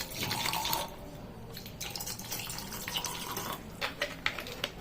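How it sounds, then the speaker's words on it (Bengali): Cold water pours into a glass holding ice cubes, a close splashing stream that starts strong, then breaks into uneven trickles and clinks before a few sharper splashes toward the end. "এরপর থেকে হালকা ঠান্ডা জল দেবো।"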